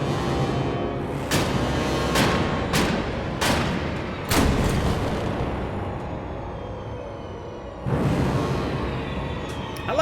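A boss in the video game Immortal Unchained fires his gun in a few loud booming blasts, several sharp reports in the first half and another burst near the end, over a dense rumbling game soundscape.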